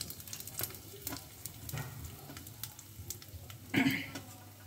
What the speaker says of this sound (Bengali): রাঁধুনি ফোড়ন, লং, ছোটো এলাচ, শুকনো লঙ্কা, এগুলো ফোড়নে দিয়ে